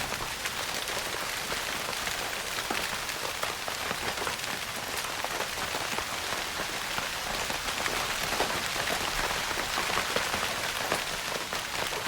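Steady rain soundscape of a downpour pattering on surfaces, a dense, even hiss of drops that stays constant throughout with no voices.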